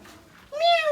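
A cat lets out a single clear, rising meow in the second half, close and distinct after a quiet start.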